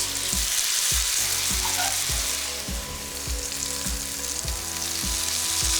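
Beef kebabs frying in hot oil, a steady bright sizzle with soft periodic bumps and knocks from the pan running throughout, close and fairly loud with no voices.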